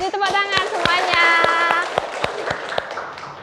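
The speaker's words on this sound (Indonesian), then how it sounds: "tepuk tangan semuanya" A classroom of students claps hands together in a steady, evenly spaced rhythm, the sharp claps landing roughly three per second while voices chant and talk over them.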